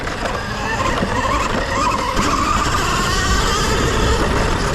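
A cheap, powerful 72v e-bike rolls in reverse with a continuous loud rattling and whirring, noisy and unbroken throughout with no speech.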